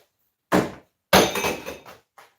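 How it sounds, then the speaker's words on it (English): Old TV deflection yokes being pulled apart for scrap metal, with two sharp metallic clanks and rattles close by, the second longer and clattering, then a small tap. "Just taking apart some of these old TV yokes."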